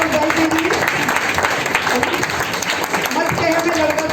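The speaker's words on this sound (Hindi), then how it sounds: "जोरदार ताली बजा दीजिए मासूम भाई के लिए" A church congregation claps loudly and steadily for Masoom bhai during a Christian sermon gathering. Voices call out over the continuous clapping.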